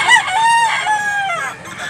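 A rooster for sale at a poultry farm in Mantalungon, Cebu gives one loud, close crow that rises and then trails off over about two seconds.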